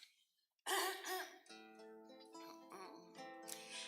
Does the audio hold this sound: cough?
yes